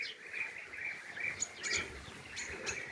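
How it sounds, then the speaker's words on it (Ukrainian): European bee-eaters calling over an apiary, repeated liquid chirps and trills from several birds at a moderate distance, steady and fairly faint. "Ось тільки послухайте, який тут спів над пасікою стоїть."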